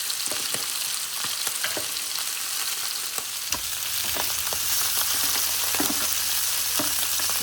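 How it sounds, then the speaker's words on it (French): Sausages browning in a frying pan, with thyme and rosemary in the fat, give a steady close sizzle and spatter. Scattered utensil clicks and scrapes break through, and a low hum rises midway and carries on to the end. "Je vais enlever les lardons et continuer la coloration des saucisses."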